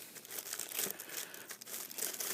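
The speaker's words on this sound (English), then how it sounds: "I'll go ahead and open those plastic bags and get the runners out" Plastic bags holding toy model kit parts and runners are torn open and handled, giving a steady run of close crinkling and rustling with small tearing bursts and no speech.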